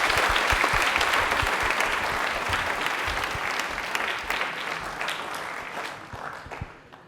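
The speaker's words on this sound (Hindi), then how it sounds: "तालियां एक बार जोरदार हो जाए अनामिका के लिए" Applause for Anamika from an audience at a televised college question-and-answer session in Jaipur: a thick, sustained round of clapping that gradually tapers off toward the end.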